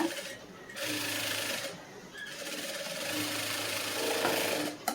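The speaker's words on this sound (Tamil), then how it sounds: "ஷோல்டருக்கு டபுள் தையல் போடுங்க." Sewing machine running in steady stretches as it stitches a double seam along the shoulder of a lined blouse, a close continuous whir with brief pauses between runs.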